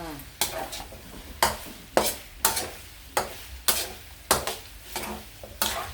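Pork rinds frying in hot oil in a pan, stirred with regular scraping strokes about every half second to second over a steady sizzle, close and fairly loud, with no talking.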